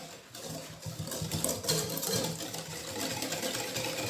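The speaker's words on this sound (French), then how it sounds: "je vais mélanger le sucre en poudre avec les jaunes d'œufs" Caster sugar being beaten into egg yolks makes a continuous whirring, buzzing mixing sound with small rattling fluctuations, close and moderately loud.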